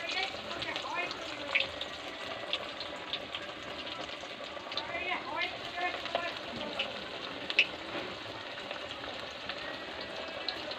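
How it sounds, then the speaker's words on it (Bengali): Thin prawn fritters fry in hot oil with a soft, continuous sizzle and occasional small pops, fairly quiet and close, while a person talks over it now and then. "এরকম হাতে মাপ করে পাতলা পাতলা করে দিলে একটা একটা করে তেলে ছাড়বো"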